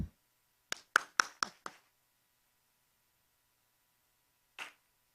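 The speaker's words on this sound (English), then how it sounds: "Clap." At a panel session of a conference in Hyderabad, a short burst of five sharp handclaps comes in quick succession, then one more clap follows after a pause, in a quiet room.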